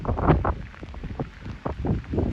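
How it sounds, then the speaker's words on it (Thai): Heavy rain and strong gusting wind lash a railway junction station yard in Thailand, forming a dense, close, fluctuating roar of wind buffeting and downpour with no talk. "ฝนตกหนักลมแรงนะครับ แล้วก็หนักเป็นอย่างมากด้วยนะ"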